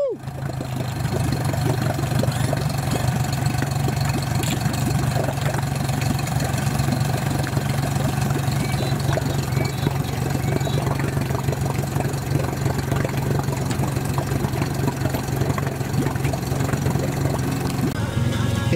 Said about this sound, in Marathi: इंजिन आता पाण्यात उतरवलेलं आहे.